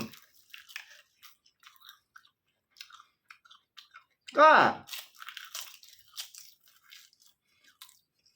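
A roasted, seasoned seaweed snack is bitten and chewed with one loud crunch in the middle, followed by quieter crisp chewing, with scattered short noises around it.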